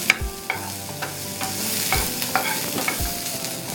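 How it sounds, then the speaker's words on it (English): Onions sauté in a pan over a very slow flame, giving a steady soft sizzle with close, sharp clanks and scrapes of a spoon stirring at irregular intervals. "Saute this till the onions turn brown on a very slow flame."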